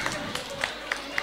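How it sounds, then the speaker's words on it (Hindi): A crowd at a mall game show claps in slow rhythmic unison, about four sharp beats roughly a quarter second apart, moderately loud over a faint murmur of the gathering. "सारे मिलके तालियां बजाएंगे, हाथ ऊपर करके तालियां बजाएंगे"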